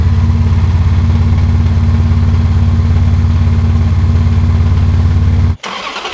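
A Ferrari 360 engine with a misfire idles loud and close, a steady low rumble with a rough, uneven pulse, then cuts off abruptly near the end.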